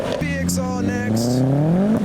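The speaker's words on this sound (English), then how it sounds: "You can hear the turbo out there." A modified Vauxhall VXR with a turbo pulls away from a car show in heavy rain, its engine note climbing steadily as it accelerates, fairly loud and close, with rain noise and a brief voice underneath.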